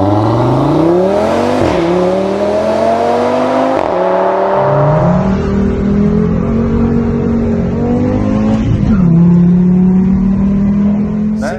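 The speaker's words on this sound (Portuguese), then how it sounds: "o ronco desse carro, 5 cilindros" A five-cylinder car engine roars and revs hard, pitch climbing in repeated surges with brief dips between gear changes, loud and close with a strong throaty drone and no talk over it.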